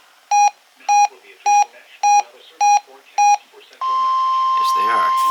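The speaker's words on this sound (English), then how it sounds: "This is a test of NOAA Weather Radio's warning alarm systems." Six short, evenly spaced electronic beeps from a NOAA Weather Radio warning alarm test ring out loud and clear, then give way to a steady sustained alert tone.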